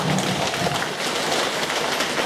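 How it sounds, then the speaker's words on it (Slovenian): Steady rain of a summer storm, a dense continuous hiss of falling drops at even loudness throughout, with no voices. "Kar dežuje. Poletna navihta."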